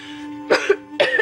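A person coughs twice in quick succession, each a sharp, close burst, over a quiet background with a soft music drone.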